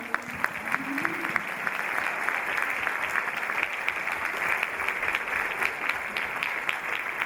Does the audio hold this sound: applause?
yes